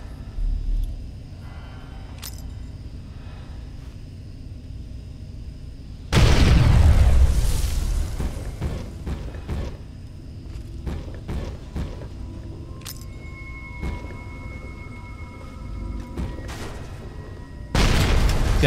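Grenade explosions in the video game Fallout 3: sudden loud booming blasts with rumbling tails, one heavy burst near the middle and another at the end, separated by quieter game ambience and scattered pops.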